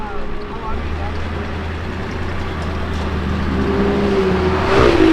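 A Corvette builds speed on the run-up to a 110 ft jump, its engine a steady low drone that rises gradually and swells louder near the end, with wind or background noise underneath.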